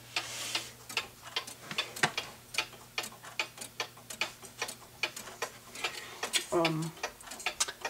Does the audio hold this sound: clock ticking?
yes